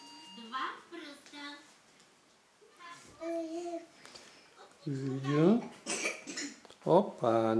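A young child coughs between bursts of babbling and chatter, while an adult also talks nearby at close range indoors.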